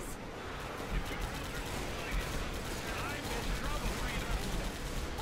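Dense, continuous gunfire from a Left 4 Dead 2 custom basement map, rapid overlapping shots and explosive rounds filling the whole stretch, loud and close with a muffled background rumble.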